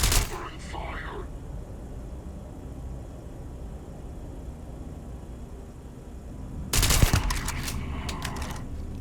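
Bursts of covering gunfire in the Starfield video game, a brief volley at the start and a louder rapid burst near the end, with quiet ambience in between.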